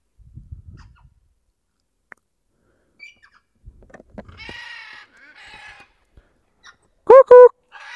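Wild birds in Sylhet, Bangladesh give loud, sharp calls near the end, after scattered faint chirps and quiet rustling. A few brief, indistinct human sounds occur between the calls.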